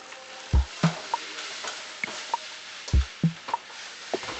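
Onions stirred in a pan as they caramelize for French onion soup, with a few sharp utensil scrapes and knocks over a soft, steady background sizzle, close and fairly loud.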